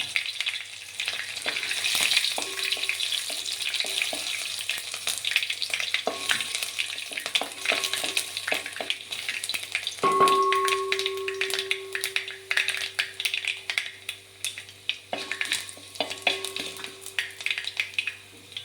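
Dried red chillies and curry leaves fry in hot oil for tempering, giving a close, crackling sizzle that flares in bursts, with occasional spoon taps and stirring.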